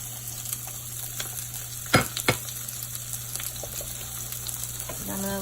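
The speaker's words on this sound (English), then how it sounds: "I'm going to give that a nice little stir around" Seafood sauce with shrimp, lemon and green onions stirred in a pan, a quiet continuous sizzle with a couple of sharp utensil knocks and light scraping, close by.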